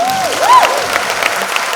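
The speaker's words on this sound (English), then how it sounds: "I think we need to give Janet a clap." Applause from a women's empowerment panel audience in Nairobi for Janet, a steady crowd clap over a short stretch with a voice briefly heard on top.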